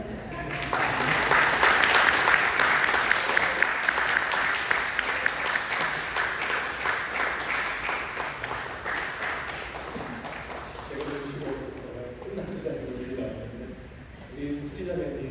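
A church congregation applauds during a Sunday worship service, a dense, loud wash of clapping that gradually thins, with a voice coming in near the end.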